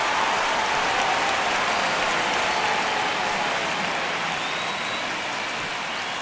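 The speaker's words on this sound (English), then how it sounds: "Crowd locked in right now." Steady stadium crowd roar at a tense ninth-inning moment of a video game baseball matchup between San Diego and the LA Dodgers, a dense continuous wash of noise under a faint voice.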